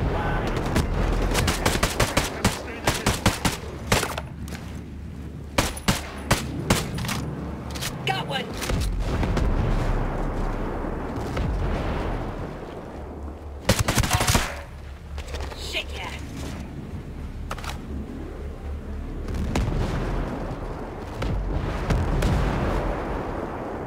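Gunfire from Ghost Recon Breakpoint, a special-operations shooter: repeated bursts and single rifle shots crackle throughout, some heavy booms among them, loud and close with a squad voice talking in between.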